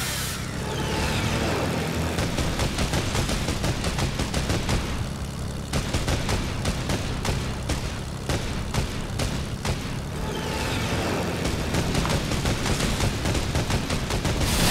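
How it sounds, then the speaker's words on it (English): Dense, nearly continuous rapid gunfire from players shooting in a Fortnite battle royale match rattles on for the whole stretch, loud and close, with booms and engine-like rumble mixed in. "Look, he's shooting at teammates,"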